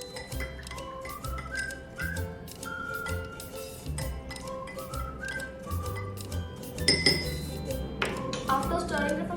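A spoon stirs salt into a glass of water, giving a steady run of light clinks and rings against the glass, close and fairly loud, with music or a voice faint underneath.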